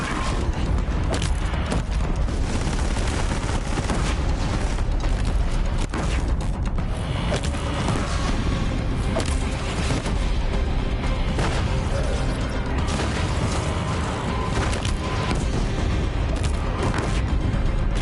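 Cannon fire and explosions in the Horizon Zero Dawn video game, a dense, continuous barrage of loud booms and crashes with whooshing debris, mixed with faint voices.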